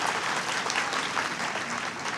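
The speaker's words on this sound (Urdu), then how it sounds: "لیکن شرط ہے کہ زور سے ذرا لگے کہ تالیاں بج رہی ہیں" Audience applause fills a conference hall, a dense, steady wash of clapping hands that holds at an even level throughout, with no voices above it.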